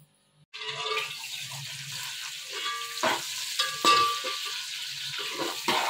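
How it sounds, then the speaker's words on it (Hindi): Onions hiss and sizzle in a hot pan in a village kitchen, a steady close frying noise with occasional stirring scrapes and clinks. "प्याज घेर दिए मैंने"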